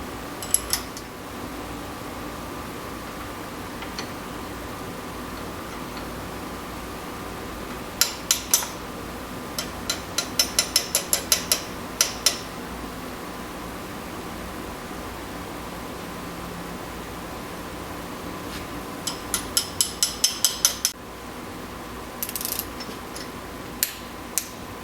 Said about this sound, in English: Now that I've recentered that one, I've just torqued it down.